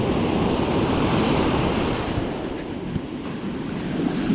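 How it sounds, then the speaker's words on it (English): Big ocean waves break on a surf-fishing beach in a loud, continuous roaring wash, buffeted by wind, swelling and easing slightly but never letting up. "The waves are pretty big"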